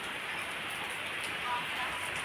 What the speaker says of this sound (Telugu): బయట అయితే ఫుల్ వాన అయితే పడుతుంది.